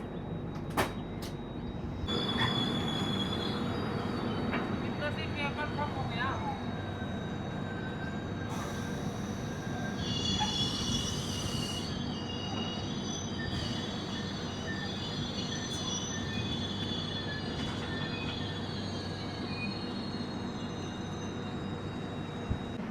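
A passenger train on the Bengaluru to Howrah line slows on tracks near Jolarpettai, a steady rumble of wheels over rails with long high squeals from braking wheels and a few sharp clanks, heard from on board, no talking.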